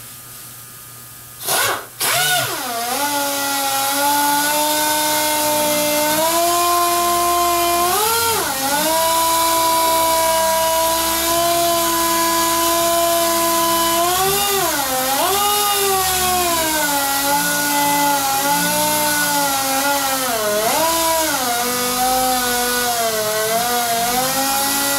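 A power sander works the clearcoat of a BMW 2002, giving a loud, steady whining motor drone with a few brief pitch dips as the pressure shifts. It runs continuously and close, with no talking.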